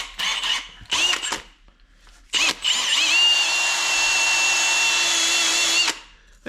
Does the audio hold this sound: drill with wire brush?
yes